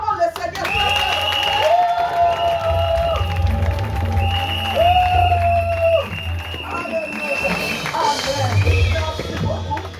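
A church congregation claps and cheers in praise, lively rhythmic clapping with crowd noise under a prominent voice and sustained sung or shouted tones.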